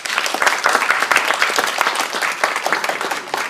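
Sustained applause from an audience at a 2024 Berkeley mayoral candidate forum, honoring three candidates; dense, steady clapping fills the whole stretch at a fairly loud, even level.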